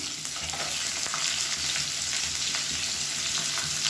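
Steady, dense sizzling of sliced onions frying in a hot pan, with faint stirring scrapes, continuous and close with no voices.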